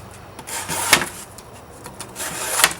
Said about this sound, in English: So cardboard is something that knives cut a lot.